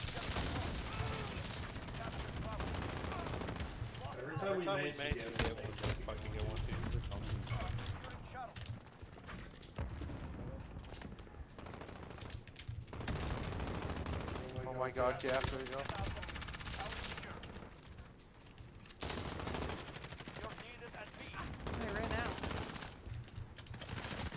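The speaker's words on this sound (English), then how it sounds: "Oh my god, a fucking airstrike" Airstrike blasts and rapid automatic gunfire in an online shooter game, dense and continuous across the whole stretch, mixed with frequent excited player voices talking over the combat.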